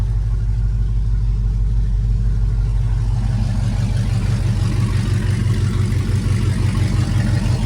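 A car engine runs steadily through newly installed, roughly fitted exhaust piping, giving a close, continuous low rumble that holds an even idle for the whole stretch.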